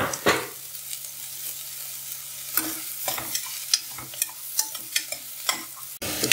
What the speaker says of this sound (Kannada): ಸಾಸಿವೆ ಸಿಡಿದ್ಮೇಲೆ ಈರುಳ್ಳಿ, ಕರಿಬೇವಿನ ಸೊಪ್ಪು, ಒಣಮೆಣಸಿನ್ಕಾಯಿ ಹಾಕಿ